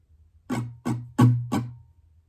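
Four evenly spaced acoustic guitar strums in strumming pattern 6 for a live version of a song, each a bright ringing chord that decays before the next, played alone and close with no talking.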